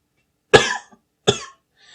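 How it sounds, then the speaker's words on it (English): Two sharp, close coughs about three quarters of a second apart, each a short harsh burst followed by silence. "Cough again."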